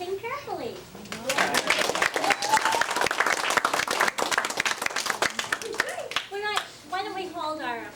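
At a kindergarten Thanksgiving awards show, an audience breaks into brisk applause, a dense run of close hand claps that swells and then tapers, with children's voices and adult talk around it.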